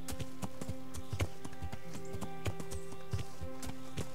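Deer gallop across terrain in the video game Kingdom Come: Deliverance, a steady run of light hoof thuds in a quick, uneven rhythm, moderately close, over a sustained musical drone with no speech.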